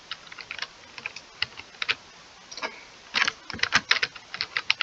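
Fingers type on a computer keyboard in uneven bursts of crisp clicks. Scattered keystrokes give way to quicker, louder clusters toward the end, close and with no talk.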